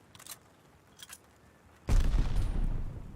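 Grenade blast and gunfire in a competitive first-person shooter match: a few faint clicks and distant shots, then a sudden loud burst of booming fire that rumbles on steadily to the end.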